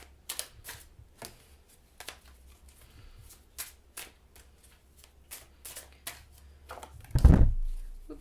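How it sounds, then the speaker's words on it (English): A microphone is knocked during a tarot card reading: light card flicks and soft taps come first, then one loud, close, low thump with a rumbling tail near the end. "I just bumped the microphone"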